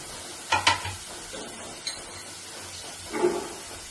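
Cabbage, capsicum and carrot are stirred in a pan, giving a few short scraping and clattering bursts over a faint background sizzle, close and fairly quiet.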